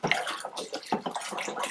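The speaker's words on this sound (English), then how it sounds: "I put some Power Scour in here. I'm just going to stir it up." Water being stirred with Power Scour in a container, a continuous close sloshing and swirling with small splashes and drips, fairly quiet and steady throughout.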